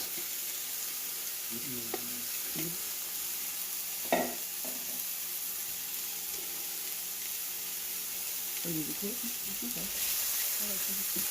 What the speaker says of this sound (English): So we're sweating out our onions and celery.